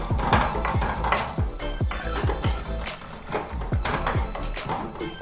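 A pan for fish curry with green chilli and curry leaves being stirred and sautéed, with a steady run of sharp metal scrapes and clinks from the utensil, loud and close, over a faint sizzle.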